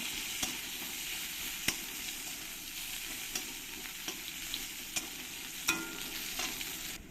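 Crushed garlic fries in oil in a pan with a soft, continuous sizzle, punctuated by occasional sharp pops and stirring clicks, with no voices present.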